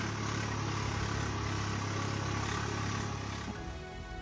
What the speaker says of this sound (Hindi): श्योपुर में भी किसानों ने खड़ी फसल को ट्रैक्टर से रौंद दिया।